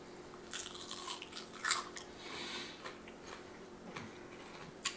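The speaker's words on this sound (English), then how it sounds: "There's that crisp, there's that crunch." Crisp, crackly crunches of biting into a fried pickle, several quick bites and chews heard up close and fairly quiet, with no talking.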